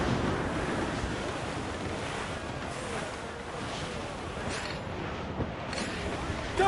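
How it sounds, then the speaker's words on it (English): Constant roar of wind and surging waves at sea aboard a sailing ship in Assassin's Creed Black Flag, steady and loud throughout with buffeting gusts and no clear speech. "The wind is picking up nasty!"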